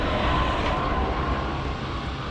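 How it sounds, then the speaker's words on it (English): A tractor approaching along a country road beneath an old railway bridge in Scotland, a steady low rumble that holds constant and fairly loud throughout, with no talking. "I can actually hear a tractor or something coming down the road"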